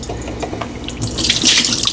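A kitchen tap runs into a sink as catfish fillets are rinsed. The splashing water is fairly quiet at first, then swells louder and brighter as the stream hits the fish and basin.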